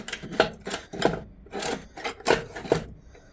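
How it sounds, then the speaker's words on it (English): Rhythmic back-and-forth sawing on the metal factory exhaust pipe of a single-cylinder 186F diesel engine, about seven rasping strokes, close and fairly loud, with no talking. "just cut that flange and that bit of pipe off"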